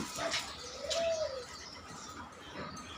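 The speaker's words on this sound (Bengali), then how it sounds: "অনেক পুরনো জাতের একটা কবুতর" An old-breed racing pigeon, around 20 years of age, gives a soft, drawn-out coo, close and alone against a quiet background, followed by faint rustling.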